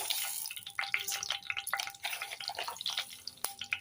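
Mustard seeds hit hot oil in a pan for tomato rasam, making faint, irregular crackles and pops with a sharp snap near the end, heard alone without talk.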